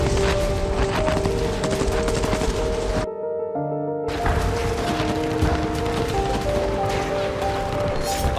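Dense gunfire and mechanical clatter from heavy fighting between Russian and Ukrainian forces at Avdiivka, sustained and loud with a brief gap partway through, with no speech.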